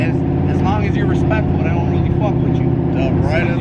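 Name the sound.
Turbo Buick Regal driving with no exhaust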